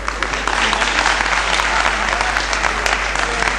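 Audience applause at a Hindi comedy poetry recital, a dense steady clatter of many hands clapping throughout, loud and continuous with no pause.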